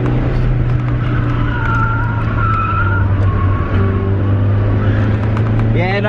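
Car tires screeching as they lose grip under hard cornering, with a loud engine drone running steadily underneath throughout.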